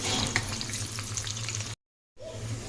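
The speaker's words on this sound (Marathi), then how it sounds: "तेल तापत ठेवलेले वडा फ्राय करून घेऊया" Spinach vadi pieces fry in hot oil in a kadai with a dense, steady sizzle that cuts out briefly near the end and then resumes.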